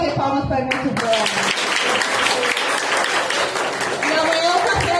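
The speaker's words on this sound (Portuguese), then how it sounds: "Vamos bater palmas para a minha Silvana." Audience applauding Silvana with steady, dense clapping that fills the whole stretch, with a voice talking over the start and end.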